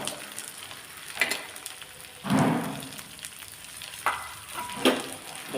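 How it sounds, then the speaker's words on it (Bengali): Onion goes into a pan where ginger has already been frying, producing a soft, continuous crackle with a few louder sputters and stirring scrapes. "এবার আমি এরপরে পেঁয়াজ দিয়ে দিচ্ছি পেঁয়াজটাও এবার একটু ভাজতে হবে"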